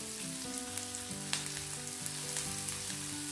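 Ginger, green chillies and onion fry in a pan for a soya keema paratha filling, a steady hissing sizzle with faint scattered pops, heard under soft background music.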